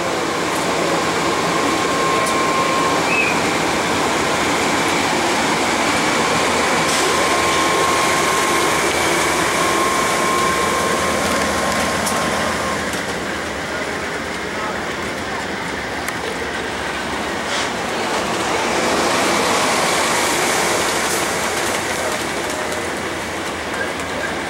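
An Amtrak Southwest Chief passenger train departs Fullerton station, a steady, loud rumble of rolling railcars with faint wheel clatter and a thin high squeal, sustained throughout without talk.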